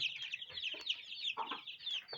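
A group of young chicks cheeping together nearby, a busy overlapping stream of high, thin peeps with a few louder chirps standing out, no voices.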